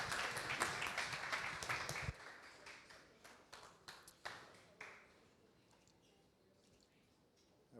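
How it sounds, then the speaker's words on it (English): An audience claps for a startup copywriter about to speak at a SaaS conference, a few seconds of scattered, quiet applause that thins into isolated claps and fades to near silence. "So please, one mega big round of applause for Alex."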